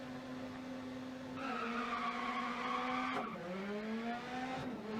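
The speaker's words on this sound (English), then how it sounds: "we got a video of Daniel running dirt rally with the handbrake" A rally car in Dirt Rally skids under handbrake, engine note rising and falling as the tires slide, with a sharp gear or revs change midway; loud and close, no talk.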